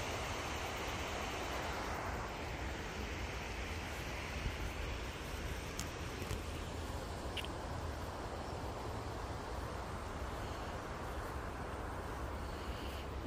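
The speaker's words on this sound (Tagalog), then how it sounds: "Pakinggan mo lang ang agos ng ilog." Flowing water of the Lower Hutt River in New Zealand, running high after heavy rain, a continuous broad rushing that stays steady and moderately loud with some wind, and no one speaking.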